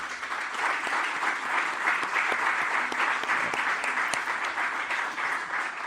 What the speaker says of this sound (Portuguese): Para eles um aplauso